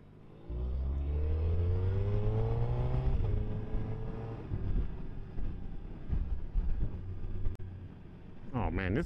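A 2023 Suzuki Hayabusa motorcycle on a ride, its engine note rising steadily as it accelerates under heavy wind rush, then settling into a sustained roar with wind buffeting the microphone.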